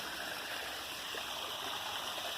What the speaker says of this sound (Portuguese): só barulho de água caindo, sem barulho de cidade